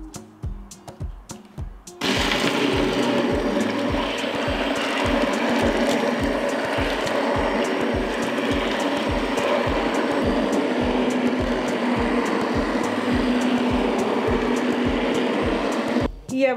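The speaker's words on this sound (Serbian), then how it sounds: "I sada ću šljive usitniti sa štapnim mikserom." An immersion blender pureeing cooked plums for jam runs continuously for about fourteen seconds, a loud whirring motor with rhythmic chopping pulses, after brief quieter clatter at the start.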